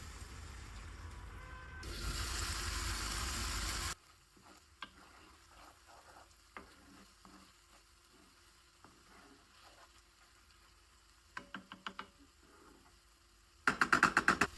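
Fish broth pours into a pan of garlic mushroom fish over low heat, giving a loud, steady sizzle for about two seconds that drops to quiet stirring and clicks, then a brief sharp sizzle near the end.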